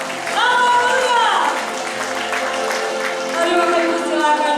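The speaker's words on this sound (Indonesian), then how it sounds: "Sorak-sorai buat Tuhan kita yang hebat" A church congregation applauds and cheers for God at a thanksgiving service marking Indonesia's independence day, a steady wash of clapping under a voice speaking over it.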